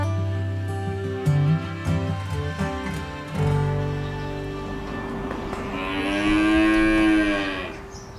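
Dairy cows on a farm in the Snohomish Basin let out long, deep moos, one after another, loud and fairly close, with no one talking.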